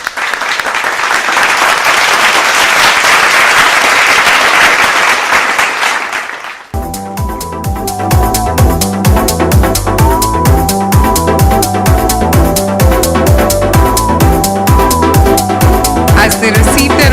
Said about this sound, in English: let's encourage them with a warm round of applause